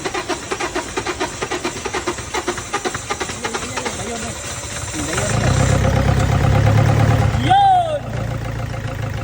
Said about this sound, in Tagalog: Sa wakas ay umandar na pero ayan, usap natin ay ito na palyado yung engine.